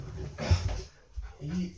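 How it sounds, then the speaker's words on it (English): A dog yelps and whimpers in a brief, close outburst, with a quieter cry following a moment later. "Was that you yelping or was that Ozzy"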